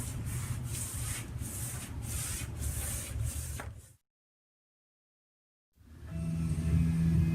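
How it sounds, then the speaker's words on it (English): A brush spreads chalkboard paint across a wall in rhythmic, close scrubbing strokes, five or six even passes, then a silent gap before a louder, rougher stretch of brushing resumes. "Now I'm gonna paint with the chalkboard paint to frame all the magnetic area."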